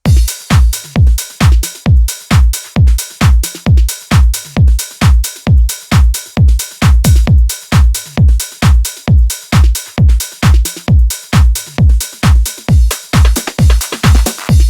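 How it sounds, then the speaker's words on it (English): Full house music drum loop with a crash, alone and loud: a driving four-on-the-floor kick with crisp hats and snares, running steadily for about fifteen seconds and topped with a splashy crash near the end. "then the full drum loop sounds like this."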